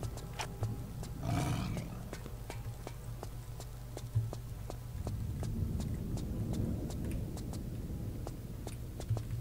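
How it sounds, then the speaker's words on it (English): A lion roars in the Colosseum level of the video game Tomb Raider Chronicles, one loud roaring burst early on and then a rumbling growl, with steady clip-clop footstep sounds and game ambience throughout. "Lion, King of the Jungle."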